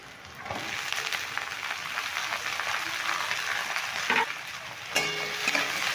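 Cut potatoes fry with onions in a hot pan, a continuous near sizzle that swells slightly as they go in, with a couple of brief clatters of utensil on metal toward the end and no talking.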